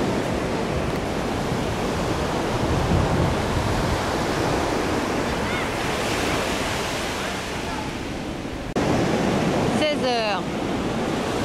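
Sea waves rolling onto the beach at San Sebastián make a loud, steady wash of surf, broad and continuous, with wind noise and a brief faint voice near the end.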